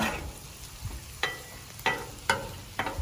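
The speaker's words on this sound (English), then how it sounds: "This side heated up some, and we're cooking the broccoli." Chicken, pork and broccoli fry in a pan with a soft steady sizzle, punctuated by several sharp scraping clinks of a spatula stirring, fairly faint and close.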